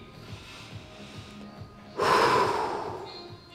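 During a stretching exercise, a person takes a sudden, strong breath midway through, loud and close. It follows a few seconds of soft, rhythmic background sounds and fades gradually.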